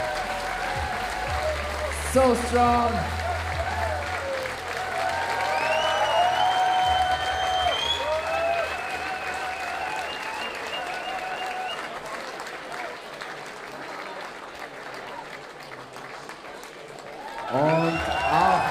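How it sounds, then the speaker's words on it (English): A crowd at a bouldering competition final in Graz applauds the third-place finisher from Team Israel, with steady clapping and cheering running throughout while voices and an announcer talk over it. "A big applause for Team Israel and Geva."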